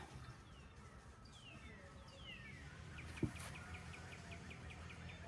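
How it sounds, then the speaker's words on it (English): Birds chirp and trill repeatedly at a quiet outdoor campsite in crisp, windless morning air, with a steady soft background hiss and one brief sharp knock near the end. "The birds."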